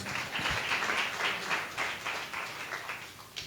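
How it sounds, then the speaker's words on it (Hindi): Children clap together in a steady burst of scattered, overlapping handclaps at moderate volume, thinning slightly toward the end, with no talking. "बस ताली बजाएं।"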